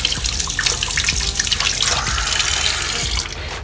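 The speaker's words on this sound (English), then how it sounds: "So instead of doing that, it's a water fountain." Tap water running steadily through a drinking-fountain attachment fitted to a bathroom sink faucet, a close, continuous splashing rush that eases slightly near the end, no talking.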